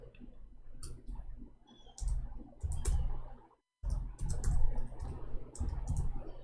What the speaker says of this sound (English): We are typing in English